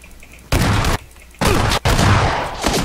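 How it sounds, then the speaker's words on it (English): Video game gunfire during a live-streamed shooter match: three loud, close bursts of shots in quick succession, each a dense, harsh blast, with no talking. "Move, I'm gonna shoot him."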